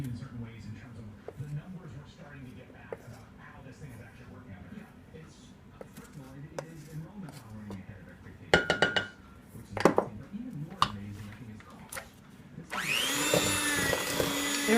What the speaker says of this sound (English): right now I have my mixture on medium to high speed